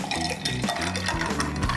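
Sparkling water poured into a glass holding ice and lime juice, with a close fizzing splash and clinks of ice against the glass in a brief burst.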